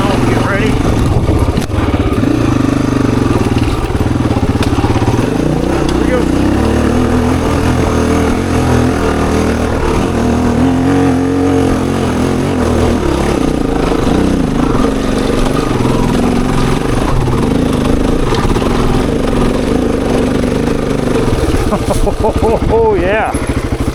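A Honda XR250 or XR400 dirt bike accelerates hard in second gear on a trail loop, its engine a loud continuous drone with wind buffeting, while a rider talks over it.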